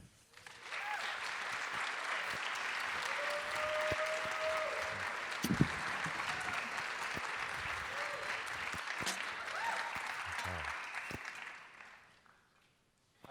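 An audience applauds steadily for about twelve seconds to welcome a speaker at a public talk, then the clapping fades out.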